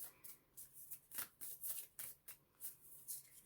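An oracle card deck, the Work Your Light deck, is shuffled by hand in quick, soft, rhythmic riffling bursts, close and quiet, repeating about a dozen times.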